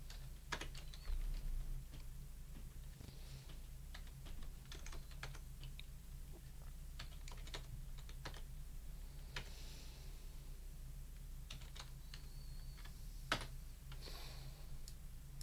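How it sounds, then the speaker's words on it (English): A computer keyboard typed on in scattered, irregular bursts of sharp clicks, some louder single keystrokes, over a steady low hum in a quiet room, with no voices. "type in the correct dimensions"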